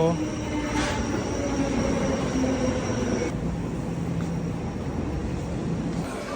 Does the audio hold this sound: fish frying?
no